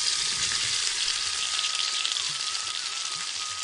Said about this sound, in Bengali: ছিমটা ভাজার সময় সামান্য লবণ আর হলুদ দিয়ে ভেজে নেব